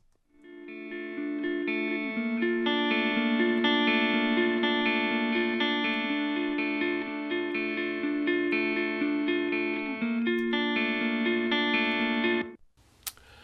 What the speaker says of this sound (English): it's a clean guitar tone that I want